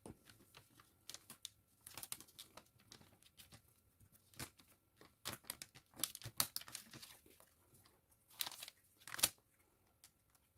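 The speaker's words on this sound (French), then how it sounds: "Et je vais venir mettre par-dessus un petit morceau de scotch." Sticky tape being torn and pressed onto a paper lapbook, a scattered series of quiet close crinkles, rips and taps with silent gaps between them.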